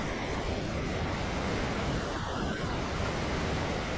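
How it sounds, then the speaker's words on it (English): A waterfall in the video game Ark: a continuous broadband rush of falling water, steady and fairly loud, with no breaks and no talk. "I like that waterfall."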